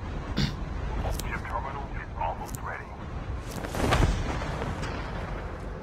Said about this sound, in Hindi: रॉकेट क्या उड़ा कोई आसमान में उड़ा